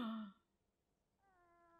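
In an anime episode, a cat gives a clear drawn-out meow, then a quiet pause, then a second softer meow.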